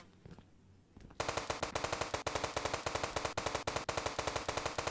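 Rapid automatic-style gunfire from a sniper rifle in the mobile game GTA 5 bursts in after a second of quiet, then keeps up a loud, steady, fast rhythm of shots to the end.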